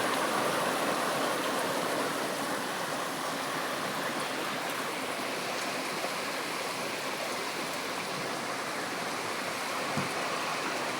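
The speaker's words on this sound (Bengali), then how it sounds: "প্রচুর পরিমাণ বৃষ্টি হইতেছে" Heavy rain falls steadily outside a house during a multi-day downpour, heard from indoors as a dense, even roar with no breaks and no voices.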